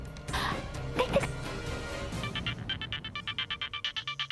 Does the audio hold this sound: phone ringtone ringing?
yes